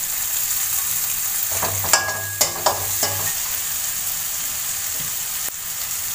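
Egg fried rice with spring onion being stir-fried in a pan, a steady close sizzle with a few scraping stirs of the spatula and no talking.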